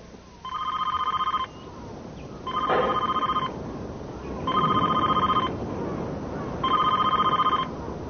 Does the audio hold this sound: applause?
no